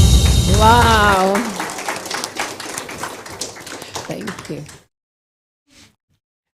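After a Hindi dance song ends, an audience applauds the dancers with a burst of hand claps over fading music. Someone says a brief thanks, then the hall goes quiet, with one faint late sound.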